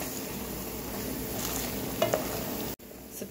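Onions seasoned with salt and black pepper are stirred in a frying pan, a soft steady sizzle with a few brief scraping stirs near the end and a short cut before the sizzle resumes.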